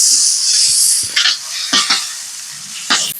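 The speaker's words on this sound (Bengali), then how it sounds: "পুরো লাল লাল করে ভাজছেন একদম নাকি?" Soybean chunks for a vegetable biryani fry in a pan with a loud, steady sizzle, punctuated by several brisk metal scrapes and knocks from stirring, close to the listener.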